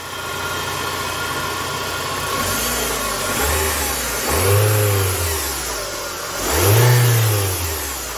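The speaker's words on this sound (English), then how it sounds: "That's an alternator bearing." A running car engine with a worn, noisy alternator bearing, heard close and steady throughout, with a continuous whine over the engine drone and two swelling revs near the end.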